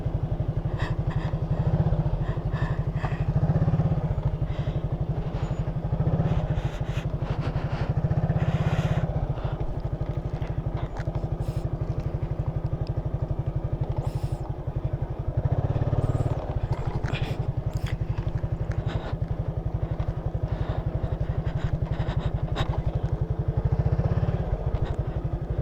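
A Honda Click scooter labouring over a loose gravel mountain road, its engine droning steadily and close for the whole stretch, with rattling clatter and crunching underneath and brief voices now and then.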